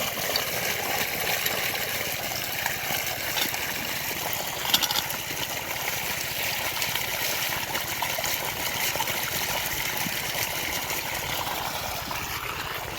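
Water runs steadily into a container, a continuous trickling flow with no clear change over the stretch, moderately close and without speech.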